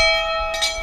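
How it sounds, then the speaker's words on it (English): A boat's bell from a McGregor 26 rings with a steady, bright metallic tone that sustains and fades slowly, and a second soft strike lands partway through. "That's our bell from our last boat."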